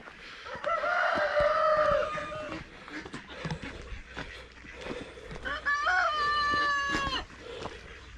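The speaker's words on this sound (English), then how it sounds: "That cockerel wakes us up every morning" A cockerel crows loudly twice, a few seconds apart, with quieter clucking and scattered farmyard noises in between.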